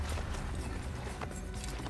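A horse gallops in the Assassin's Creed video game, its hooves clopping in a quick, steady rhythm at moderate loudness across the whole moment.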